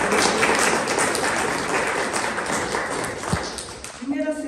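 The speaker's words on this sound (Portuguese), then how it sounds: "quero pedir uma salva de palmas para as minhas amigas" Audience applause at a women's conference of the APEOESP teachers' union in Limeira, a dense steady clapping that fills the room for about four seconds before fading as a voice begins to speak.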